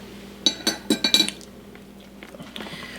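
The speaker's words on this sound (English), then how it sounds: "Now I'm going to slowly work this into our flour until we get it all blended" Utensil clinks against a bowl while cream and vanilla are worked into flour for soda bread, a quick run of five or six bright taps followed by quieter stirring scrapes, close up with no talking.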